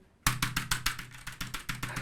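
Keys on a low-profile mechanical keyboard pressed in a steady run of about a dozen crisp, close clicks, fairly quiet, with no talking.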